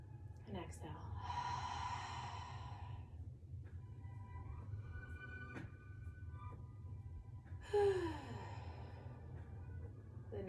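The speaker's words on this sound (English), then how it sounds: "And I'm gonna inhale and exhale." Deep inhales and exhales during a standing balance exercise, two or three long breathy swells heard close and soft over a steady low hum, with spoken instruction between them.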